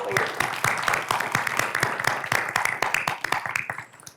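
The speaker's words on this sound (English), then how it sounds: "can you all give them a round of applause, please?" An indoor audience at an evening program breaks into dense, sustained applause, many hands clapping together at a steady level for a few seconds before tapering off.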